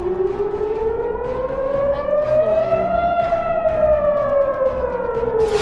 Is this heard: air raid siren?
yes